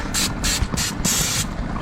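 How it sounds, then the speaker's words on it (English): Cooking spray hisses from a can onto a grilling basket in four short, loud bursts, each a sharp aerosol spritz separated by brief gaps. "Put a little cooking spray on there."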